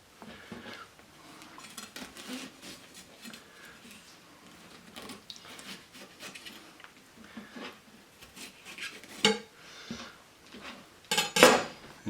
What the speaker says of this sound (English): you just want to take these little ribs out of here with the tip of your knife